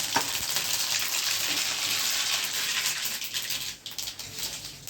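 Mustard seeds, cumin and asafoetida sizzle loudly in hot oil, a dense continuous crackle and hiss that thins slightly toward the end.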